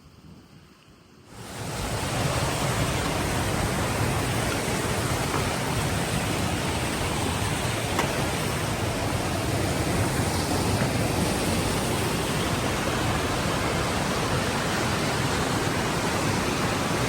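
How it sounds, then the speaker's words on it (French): The Big Branch river rushes loudly and steadily, a dense, close roar of flowing water that starts abruptly and continues unbroken, with no voices. "C'est la rivière Big Branch."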